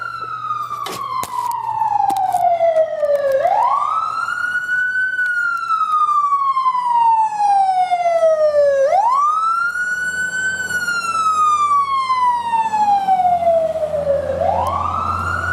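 An emergency vehicle siren wails loudly and close, sweeping down and snapping back up in long repeating cycles over steady traffic rumble, with no talk.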